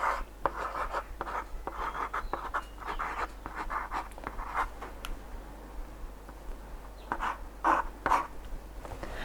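Pen scratching on paper in a quiet room, a steady stream of short strokes and taps over a low hum, close and soft, with no talking.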